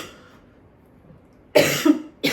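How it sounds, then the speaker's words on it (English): A woman recovering at home after DIEP flap breast reconstruction surgery coughs in two loud, close bursts after a quiet pause, the second cut short at the end. "I'm going to cough, I'm going to cough, I'm going to cough."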